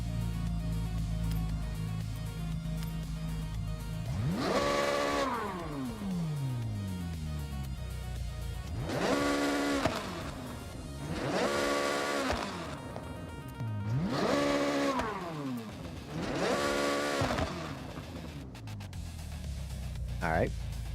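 A Chevrolet Corvette C8 with a flat-plane engine drives in the Forza Horizon 6 racing game, revving up through repeated gear pulls in rising and falling sweeps, loud and close, with a voice talking over it.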